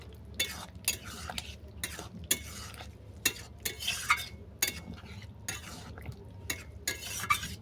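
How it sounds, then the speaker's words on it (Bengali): Ground phoron and fenugreek being stirred into sukto in a pan: repeated rhythmic scraping strokes of a spoon, close and fairly soft, with no voices. "সেটাকে আমি দিয়ে দিচ্ছি এটাকে ভালো করে মিশিয়ে নেব"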